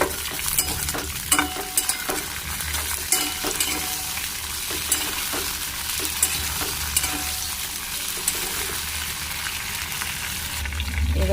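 A large onion fries and sizzles steadily in a pan while being stirred, a constant close hiss broken by scattered scraping and clinking strokes, with no talk.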